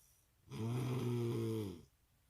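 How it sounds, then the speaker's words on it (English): One loud, rumbling child's snore on a long breath, droning steadily for over a second before cutting off into quiet. "what is up with my kids snoring so loudly?"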